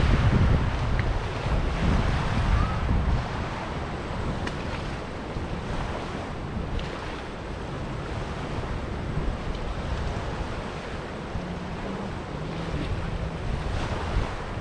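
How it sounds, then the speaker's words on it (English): Floodwater from a river swollen after a hurricane rushes past in a constant, loud roar, with wind buffeting the microphone and no voices. "You can see how much water is actually flowing back there in the background."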